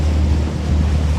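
Sea waves churn steadily near the shore around Stockholm, a continuous low rushing wash mixed with wind buffeting on the microphone, loud and close throughout with no talk.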